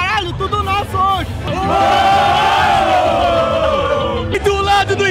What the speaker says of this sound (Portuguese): Nossa torcida é muito louca